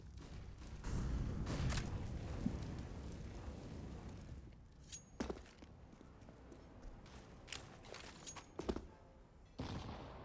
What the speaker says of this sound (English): Oh, beautiful nade.